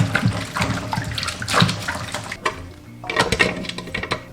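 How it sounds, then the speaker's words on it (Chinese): Cowpeas and young ginger are washed by hand in water, giving irregular splashes and sloshing with intermittent surges of running water, close and fairly loud. "也要把它们清洗干净。"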